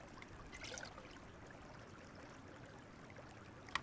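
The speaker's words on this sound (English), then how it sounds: "Gonna fill up some water." Water trickling and pouring steadily while a character fills up from a stream in Sons of the Forest, a soft continuous flow with a brief splash near the start and a sharp click near the end.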